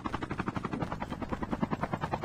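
Helicopter in the Call of Duty Mobile battle royale video game, a fairly faint, rhythmic rotor thump pulsing evenly and continuously with no one talking.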